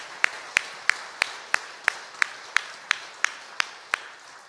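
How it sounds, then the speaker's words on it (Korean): Evenly spaced single claps during a church service, about a dozen crisp, moderately faint hand claps in a steady beat roughly three per second, with no talking. "다시 한번 격려의 박수 주십시오."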